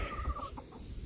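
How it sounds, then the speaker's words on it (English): Chickens and roosters foraging outdoors for worms in garden soil, giving a few soft, brief clucks close by amid low background rumble. "we got roosters and chickens"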